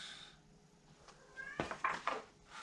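A little kitten meows a few times in quick succession, short, faint cries in a quiet indoor room, following a soft shuffle.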